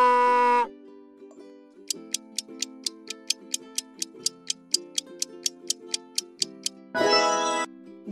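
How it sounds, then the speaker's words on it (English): Rhythmic ticking clicks run under a tonal drone, with loud honking bursts at start and end like a donkey's bray. "Donkey."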